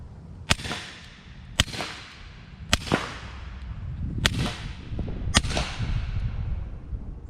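Five muffled, sharp cracks of gunfire through a SilencerCo suppressor ring out at uneven intervals, each snapping and fading quickly against outdoor background noise.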